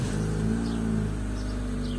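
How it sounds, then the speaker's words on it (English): A car engine turns over and settles into a steady low idle hum, close and continuous, during air-conditioning troubleshooting. "Okay, so let's start up the car."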